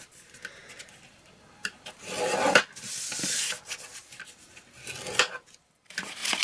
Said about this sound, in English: you want to score that at 1 inch on all 4 sides